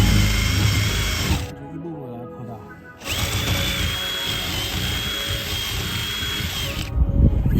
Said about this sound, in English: You don't want to drill too large of a hole at once, since they'll induce cracking.